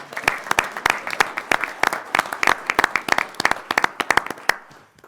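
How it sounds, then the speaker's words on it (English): Audience applause at a university board of curators meeting, a steady burst of clapping with individual claps standing out, lasting about five seconds before tapering off. "Okay, one more round of applause."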